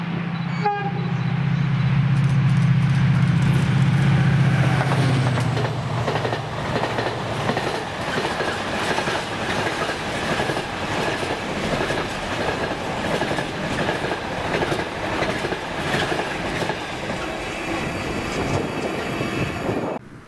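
A Class 68 diesel locomotive, number 68016, hauls an Inverness to Mossend freight train past at close range, its engine roaring loudly at first before steady wagon rumble and rhythmic clickety-clack carry on through the rest of the pass.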